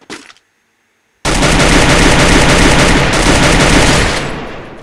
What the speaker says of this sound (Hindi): यहाँ से फायरिंग आई थी